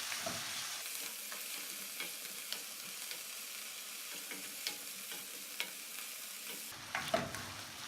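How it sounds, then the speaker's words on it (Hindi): Capsicum, onion and green chillies fry in a pan for khatti chicken, giving a soft steady sizzle with occasional light clicks and scrapes of stirring and a brief louder clatter near the end. "शिमला मिर्च, प्याज और सब्ज़ मिर्चें डालकर 2-3 मिनट फ्राई करें।"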